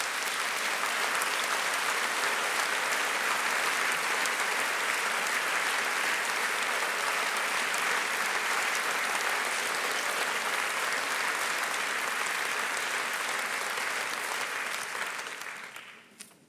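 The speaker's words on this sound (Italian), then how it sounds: "Credo che questo applauso gli esprima tutto il sostegno che egli merita" A general assembly audience applauding the head of state, a long sustained wash of many hands clapping in a large hall, even and dense, fading out at the very end.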